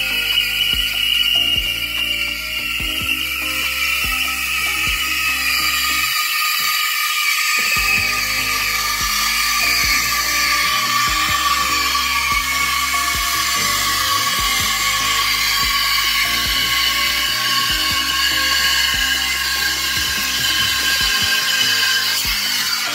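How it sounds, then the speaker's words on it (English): The steam wand of a Breville Barista Max espresso machine froths milk with a loud, continuous hiss, joined by a rhythmic mechanical buzzing pulse that briefly drops out partway through. "Takes a little while, but eventually that is going to turn into really frothy milk"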